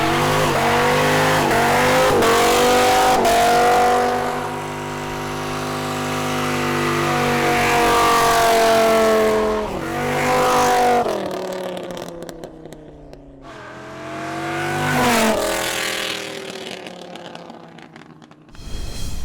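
A 2002 Dodge Viper Final Edition roars through a long burnout, its engine revving hard and holding high with tire squeal, easing off midway, then surging again before cutting off. Loud and close throughout.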